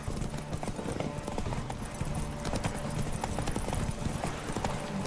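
Roach, a horse in the video game Witcher 3, galloping with rapid, continuous hoofbeats, close and steady over ambient game sound.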